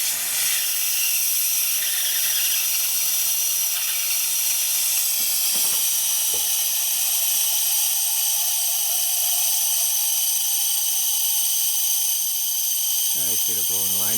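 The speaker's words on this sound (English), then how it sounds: "So I'm going to just give it a crack and blow that line out" Liquid propane hisses loudly and without a break as a fuel line on an automotive propane system is blown out. The broad, steady rush fills the whole clip, with faint, brief background noises under it.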